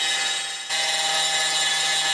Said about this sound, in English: Hit it with a sanding grinder.